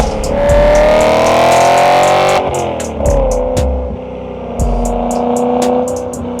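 A BMW M car's engine revs hard and climbs in pitch, then drops off and blips again in several sharp, loud bursts with brief gaps between them, heard close up.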